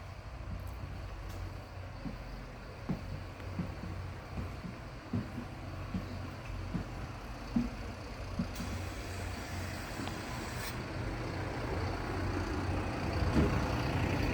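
A Mercedes Citaro shuttle bus drives at a car-park shuttle service, its steady low engine and road rumble filling the scene throughout, with occasional small knocks and rattles and a slight rise in loudness toward the end.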